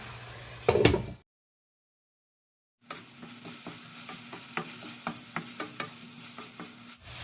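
Pork menudo with soy sauce being stirred in a pan, a short clatter followed by a silent gap, then steady sizzling with repeated scraping strokes of the spatula, close and moderately loud.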